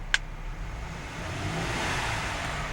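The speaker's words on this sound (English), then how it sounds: "I'm gonna rev the engine." A silver 2006 Mercedes-Benz R350 4Matic with a 3.5 liter V6 revs up from idle, a steady mid-level engine drone that swells gradually, with a brief sharp click near the start.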